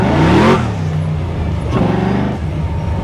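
A 1967 Camaro RestoMod accelerates hard, its engine note loud and close, rising in pitch through a strong pull, easing briefly, then climbing again.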